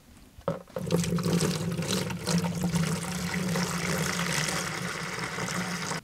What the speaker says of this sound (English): take our water and add three fourths of a gallon to our bucket